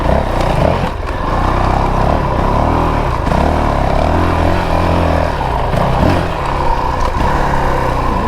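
Honda CRF450RL dual sport motorcycle (2022) ridden off-road on a technical trail, engine note rising and dipping in repeated throttle blips, steady and fairly close with no talking.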